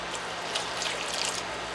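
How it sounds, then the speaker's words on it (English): Water poured steadily into a soup pot of turkey noodle soup, a soft continuous splashing trickle lasting under two seconds with no talking. "I want to put 4 more cups of water in there"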